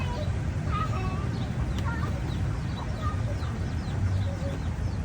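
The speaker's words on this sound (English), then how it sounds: "We got some chickens that came to say goodbye to us." Chickens clucking near a Maui vacation spot, short chirpy calls scattered over a steady low background rumble, with some faint voices in the mix.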